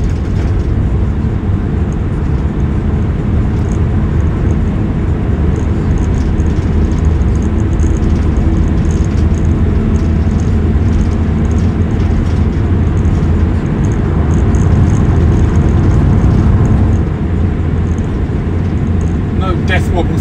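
A VW T5 camper van engine drones steadily from inside the cab while driving, a continuous low rumble with road noise that swells slightly near the end.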